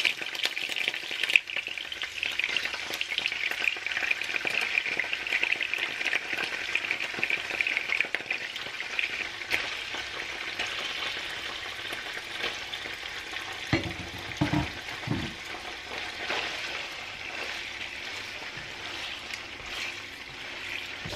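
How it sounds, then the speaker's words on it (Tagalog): Tofu pieces frying in hot oil, a loud, continuous close-up sizzle with crackling that holds steady throughout, with a few soft low knocks partway through and no speech. "mainit na ang ating mantika, kaya ihulog na natin yung ilang piraso ng tofu para maiprito natin siya"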